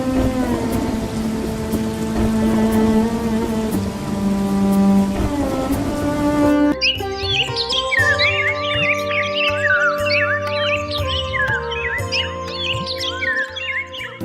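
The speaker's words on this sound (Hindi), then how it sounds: "बारिश अब हल्की हो गई है" Light morning rain patters steadily beneath a sustained tonal hum that fades after about six seconds, giving way to a lively chorus of bird chirps over the continuing rainfall.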